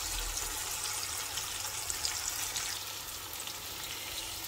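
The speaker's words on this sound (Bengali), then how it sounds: "টমেটো কুচি দিয়ে দিলাম।" Chopped tomatoes sizzling in spice masala for a Noakhali-style taki fish dish, a steady soft frying hiss that stays even throughout.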